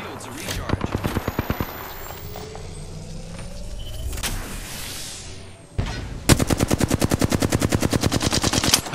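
Bursts of rapid automatic gunfire in the Apex Legends battle royale shooter, a short volley early on, then a long, loud, steady stream of shots near the end, with sweeping game effects between.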